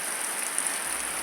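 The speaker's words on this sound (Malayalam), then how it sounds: "ഞങ്ങൾക്കിവിടെ ഭയങ്കര മഴ കേട്ടോ" Heavy rain, the first of the season, falls in a steady even hiss heard from beside a window, with no other sounds standing out.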